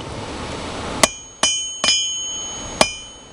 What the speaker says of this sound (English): I'm going to lay this over the anvil